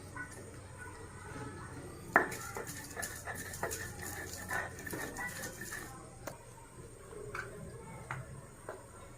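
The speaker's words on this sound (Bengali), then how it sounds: "এখন আমি সিমটা বেটে নেব।" Beans are ground by hand on a grinding stone in a home kitchen for a Bengali bharta, giving a run of rhythmic scraping and knocking strokes, close and moderately quiet, with one sharper clack partway through.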